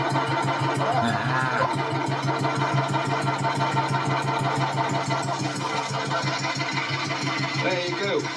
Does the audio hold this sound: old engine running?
yes